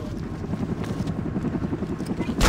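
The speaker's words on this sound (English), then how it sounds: "Chopper incoming." Helicopter approaching in the video game Army of Two, a steady, rhythmic rotor chop with a heavy low rumble that stays loud throughout and swells near the end.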